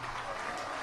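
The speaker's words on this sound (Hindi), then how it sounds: "एक बार सतुआ बाबा जी के लिए जोरदार ताली बजाकर स्वागत वंदन अभिनंदन" Brief burst of dense audience applause at a Shiv Mahapuran religious discourse during the Prayagraj Maha Kumbh, steady and broad with voices mixed in.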